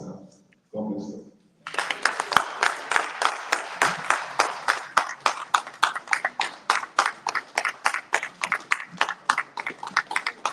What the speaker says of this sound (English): Continue clapping, continue clapping, continue clapping.